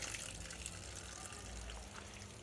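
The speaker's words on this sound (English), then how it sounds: "So if I pour water on that one, this one has a bit more character." Water poured over a freshly cut wooden log in a woodturning shop, a steady splashing trickle that runs without a break, close by and fairly quiet.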